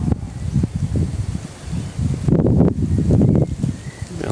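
Strong, cold wind gusts through foliage at a riverside camp on the Surubi River, leaves rustling loudly in uneven surges that swell midway and keep blowing steadily.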